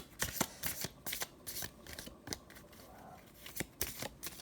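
A deck of cards is shuffled repeatedly in a quiet room, giving soft riffling bursts and slaps in an irregular rhythm, close but faint.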